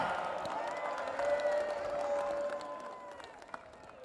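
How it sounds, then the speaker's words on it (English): An audience claps and murmurs for Senator Ahmadu Ali, national chairman of the party, at a political rally; the applause is a faint, steady crowd wash throughout. "Make you clap for him"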